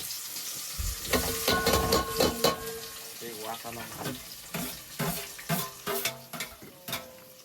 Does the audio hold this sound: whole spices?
yes